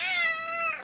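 A pet cat gives one drawn-out, clear meow close by, steady and loud, tapering off at the end with no talk over it.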